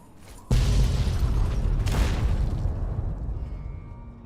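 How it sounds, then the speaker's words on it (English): Loud explosions in the Fallout mod Tale of Two Wastelands: a sudden heavy boom hits, a second blast follows about a second and a half later, and a long rumbling tail fades slowly, with no talking. "Got explosions."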